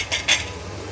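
A metal lid clinks twice onto a pot of radish-leaf sabzi cooking with tomatoes on the stove, two quick bright taps over a low steady simmer.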